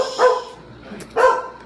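A dog barks twice at a cat indoors, two sharp, fairly close barks about a second apart with quiet in between.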